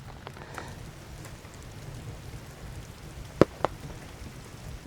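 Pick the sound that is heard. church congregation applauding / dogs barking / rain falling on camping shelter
rain falling on camping shelter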